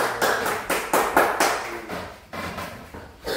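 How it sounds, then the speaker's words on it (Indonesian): A classroom of pupils gives a round of applause during a primary-school lesson on magnets, a busy burst of many hands clapping in irregular waves that rise and fade over a few seconds, fairly close and without talk. "sekarang bisa kasih tepuk tangan dulu"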